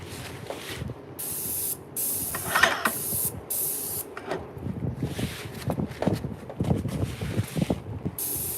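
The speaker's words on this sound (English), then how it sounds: "I'm gonna go ahead and hit the inside of this too. Now I'm getting overspray all over me." Spray can or spray gun painting a desk part in a workshop, several separate hissing bursts of a second or so each, close and fairly loud, followed by quieter handling clatter and knocks.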